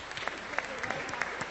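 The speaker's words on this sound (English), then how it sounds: "Please give me a round of applause" A small crowd applauds steadily, with scattered sharper claps standing out over a continuous patter.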